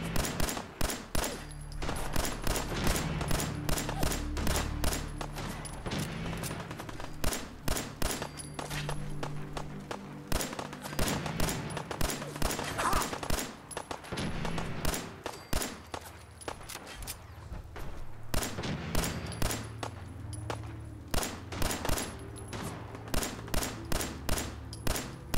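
A rifle fires in Fallout 4, loud, closely spaced shots in rapid bursts repeating throughout, with brief pauses between volleys and a low rumble underneath.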